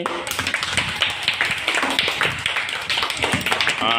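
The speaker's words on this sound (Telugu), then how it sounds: "క్లాప్స్ కొట్టండి." A first-grade class of children clapping together in a classroom, a dense, steady patter of quick claps lasting several seconds, with a brief voice near the end.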